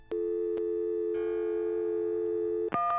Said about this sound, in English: Busy signals.